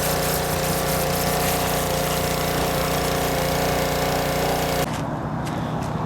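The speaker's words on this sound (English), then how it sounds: "So we're gonna pressure wash it before we have to weld it" A pressure washer sprays down a bare Mazda Miata chassis. The loud, steady engine-driven hiss and drone runs close by for nearly five seconds, then stops abruptly.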